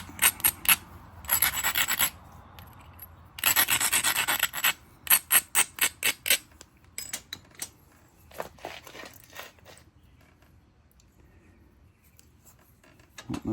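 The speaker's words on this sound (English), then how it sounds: "Just gonna give my edges a little grind here." Rasping, scraping strokes of a hornstone point being ground along its edges in flintknapping pressure work, coming in quick bursts and rhythmic rubs, close and fairly loud, then fading to quieter scratches with no talk.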